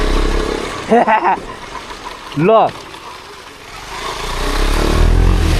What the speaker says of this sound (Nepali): हेलो केटाकेटी बाइक आउँदैछ